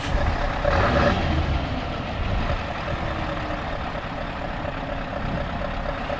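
A Scania R580 truck at night gives off a steady, loud diesel engine drone with a thin high tone riding on top, continuous and close with no voices.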